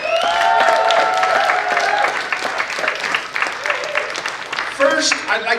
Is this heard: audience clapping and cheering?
yes